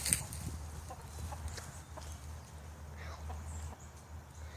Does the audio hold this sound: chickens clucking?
yes